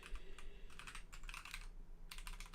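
Code is typed on a computer keyboard in quiet, close bursts of rapid clicking keystrokes separated by short pauses, with no voices.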